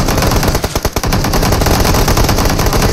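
Loud, dense automatic gunfire in a battle royale video game, a continuous close rattle with a brief stuttering break of single shots before the sustained burst resumes.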